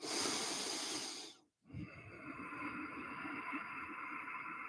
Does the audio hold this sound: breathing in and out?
yes